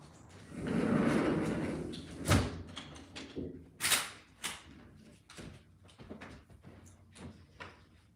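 A Mercedes car door is shut, landing as a sharp nearby thump among several other soft knocks and handling sounds. A muffled rustle comes before it, and no one talks.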